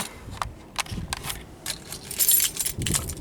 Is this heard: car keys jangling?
yes